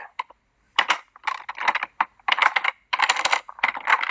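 Rapid typing on a computer keyboard, including a press of the @ key, gives close, crisp key clicks in uneven bursts with short pauses between them.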